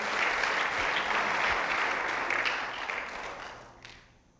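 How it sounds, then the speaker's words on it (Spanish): Church congregation applauding together, a broad sustained wave of clapping that gradually thins and fades toward the end. "pero estaban aplaudiendo"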